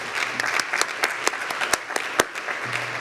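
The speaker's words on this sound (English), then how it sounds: "We can applaud twice" Audience applause at a university MLK lecture, a steady wash of many hands clapping in a large hall, with sharp individual claps popping out above the crowd throughout.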